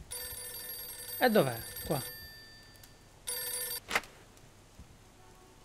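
An old telephone in the Mafia 2 game rings in two short bursts a couple of seconds apart. Someone speaks briefly between the rings.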